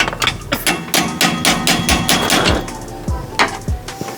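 The back of a ratchet strikes a part during a car turbo swap, making a rapid series of loud, sharp metallic knocks, about a dozen close hits in an uneven rhythm before a few slower blows.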